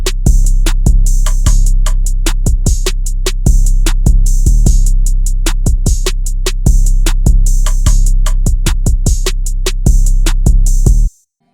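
A dark drill-style beat in FL Studio with punchy rack kicks and booming Spinz 808 bass under crisp rhythmic hits, loud and steady, cutting off abruptly at the end.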